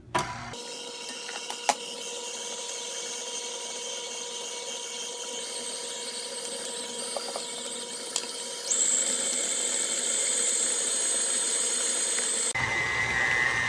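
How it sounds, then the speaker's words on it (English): An electric mixer beats cheesecake batter until smooth. Its motor gives a steady whirring drone close to the mic, which shifts to a higher, busier pitch partway through before the sound cuts out near the end. "And then you mix it until, or beat it until it's smooth."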